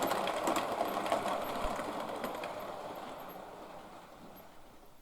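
A model locomotive, Dominion of Canada, running on a big DJH motor and gearbox combination: a steady, close mechanical whir with faint rail clicks, slowly fading over several seconds.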